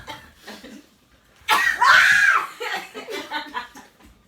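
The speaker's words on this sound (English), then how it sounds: "Oh, you coughed already." A sudden loud cough bursts out close by, followed by smaller laughing or coughing sounds and some faint voices.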